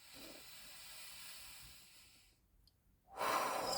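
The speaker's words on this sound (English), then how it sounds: "Let's take some breaths." Slow, deep breaths taken with the head tilted back, a soft airy inhale and exhale sounding close and fairly quiet, followed by a brief pause and then a louder, rushing breath near the end.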